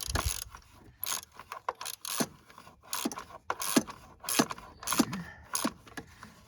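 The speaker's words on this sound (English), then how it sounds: "Take that off and ratchet it on" A ratchet tightens an ignition coil bolt on a 2000 Ford Crown Victoria Police Interceptor, giving close, repeated clicking bursts in an uneven rhythm with light metallic scraping and no speech.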